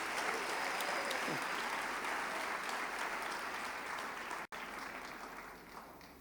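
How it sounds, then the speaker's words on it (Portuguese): A church congregation applauds during a special anniversary service, steady dense clapping heard close and continuous throughout, with a brief dropout near the end. "Você pode aplaudir a Jesus?"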